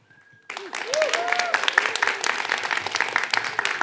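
A conference audience bursts into sustained applause, loud and steady after a brief quiet start, with a few cheers and whistles mixed into the clapping.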